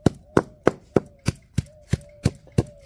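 Mustard and leaves are ground together on a grinding stone in a village kitchen, giving a run of eight sharp, regular thuds close by, about three per second.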